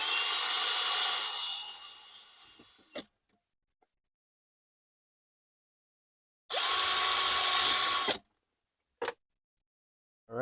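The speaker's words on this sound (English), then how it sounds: "I'm just gonna drill 2 little holes for the screws" A power drill bores two small screw holes while installing a USB port panel in an older camper, two loud steady whirring bursts of about two to three seconds each, separated by silence and a few short clicks.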